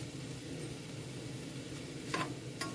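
Onions and sausage sizzle steadily in a cast iron pot, a constant close hiss with a couple of brief sharper scrapes near the end.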